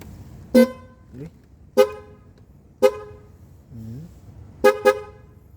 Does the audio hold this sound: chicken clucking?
no